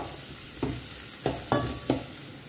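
Onions frying with curry leaves and green chili in a pan for Goan home cooking: a steady sizzle broken by four short scraping stir strokes, close and fairly quiet.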